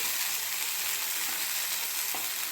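Eggplant slices fry in a pan as they are flipped, giving a steady, close hiss of sizzling oil with a faint scrape near the end.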